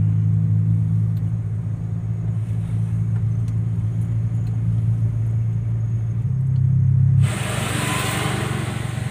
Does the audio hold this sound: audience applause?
no